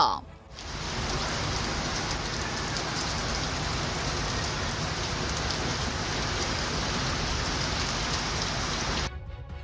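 Heavy monsoon rain pours down steadily in Gokarna and Kumta, Karnataka, a dense, continuous roar of drops hitting surfaces that holds constant before cutting off near the end.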